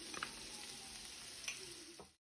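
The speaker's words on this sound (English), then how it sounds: "I'm just sauteing my veg for about 5 to 6 minutes in total." Snap peas, peppers and other vegetables sauté in a pan, giving a quiet, steady sizzle and fry with a few light stirring scrapes, heard alone.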